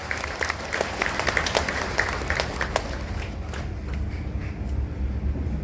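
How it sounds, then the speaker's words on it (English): A round of applause from the audience at a political party meeting in Meghalaya, with crisp individual claps standing out early before thinning into a softer, steadier patter. "Ladies and gentlemen, please give a big round of applause."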